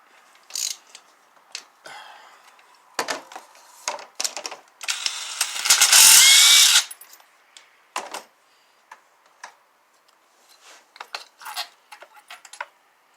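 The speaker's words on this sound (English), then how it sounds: "We're going to pull this plug out and see if the plugs have been replaced already." A ratchet works a spark plug loose from a Nissan Altima engine, with quick clicking bursts and metallic ticks, a longer loud grinding rasp in the middle, and scattered small clinks close by, with no talking.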